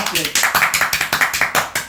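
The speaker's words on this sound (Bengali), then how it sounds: "আমরা এর জন্য খুব খুশি, একটা হাততালি।" Quick, steady hand clapping, about eight sharp claps per second, close and fairly loud, as a short round of applause after Bangladesh's cricket team is bowled out in a Test match against India.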